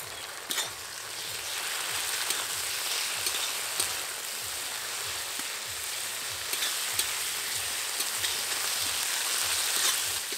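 Ginger garlic paste and chopped tomato sizzle steadily in a hot pan while cooking chicken khichuri, a continuous crackling fry with faint rhythmic stirring scrapes underneath, no talking.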